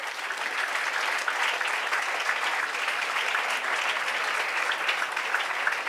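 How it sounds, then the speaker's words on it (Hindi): A crowd stands and claps steadily and continuously at a Jallianwala Bagh martyrs' memorial event, a dense wash of applause that holds at an even level throughout. "आप लोग खड़े होकर ताली बजा सकते हैं"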